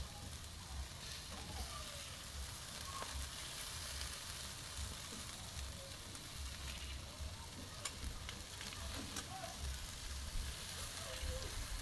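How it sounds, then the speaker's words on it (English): Beef grilling over an open village fire, with steady frying sizzle and crackle, scattered pops and clicks throughout, and a person talking at times over the cooking. "I wanted to start with beef grilling, and there's my potatoes also grill over here"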